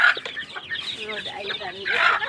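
A Rhode Island Red chicken clucks close by in a busy run of rising and falling calls, with a faint voice partly mixed in.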